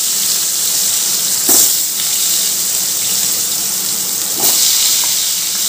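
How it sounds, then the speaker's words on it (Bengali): Potato pieces fry in mustard oil with five-spice seeds in a kadai, a steady bright hiss throughout with two brief louder spits, alone with no talking. "দিয়ে একটু ভালো করে ভাজা ভাজা করব।"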